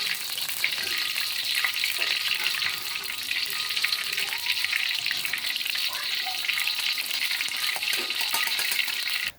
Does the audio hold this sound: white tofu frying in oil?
yes